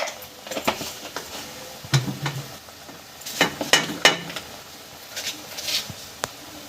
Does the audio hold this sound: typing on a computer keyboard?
no